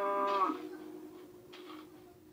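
A cow in Minecraft gives a short, fairly close moo, then a fainter second low call a moment later over a quiet background, with no talking.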